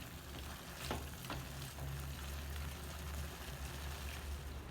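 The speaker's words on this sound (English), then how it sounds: "You can adjust the gas stove at medium high this time, and it will take 8 to 10 minutes for our tomatoes to be softened" Tomatoes simmer and soften in a pan on a gas stove at medium-high heat for a chutney, giving a soft, low, continuous bubbling sizzle with a few faint stirring clinks and no talking.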